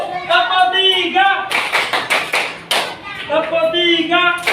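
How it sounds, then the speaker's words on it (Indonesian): A group of people clap together in rhythmic bursts during a clap-three game at a school coaching session, sharp claps mixed with voices talking and chanting between them. "Oke, tepuk 3 dulu. Tepuk 3."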